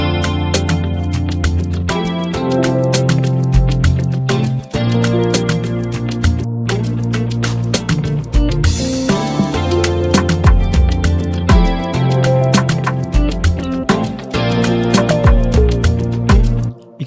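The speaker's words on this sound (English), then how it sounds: "Let's go to track 8 and engage the bass." A full beat playing in FL Studio with the bass track switched on: steady, loud layered loops with a driving low bass line and a continuous rhythmic pattern throughout, no voices.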